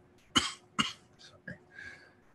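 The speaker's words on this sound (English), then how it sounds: "I'm still coughing." A person coughs several times, two sharp close coughs followed by a couple of softer throat-clearing bursts, in a quiet indoor setting.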